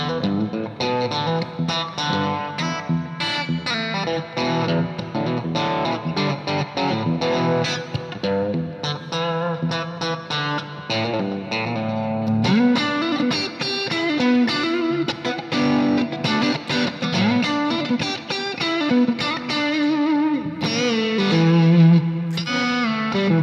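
Electric guitar playing a grooving blues-rock riff, with a distorted tone, drenched in reverb and echoing delay, steady and loud throughout.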